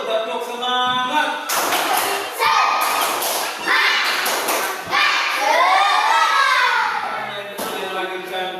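A class of children performs a spirit clap, loud rhythmic bursts of clapping and thumping mixed with shouted voices in a classroom, ending in a cheer with a rising chant.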